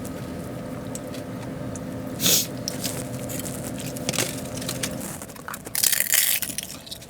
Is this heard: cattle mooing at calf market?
no